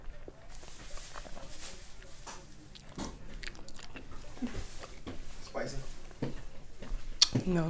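Someone bites and chews Wendy's bacon sriracha fries up close, with soft crunches and wet mouth sounds under ongoing talk.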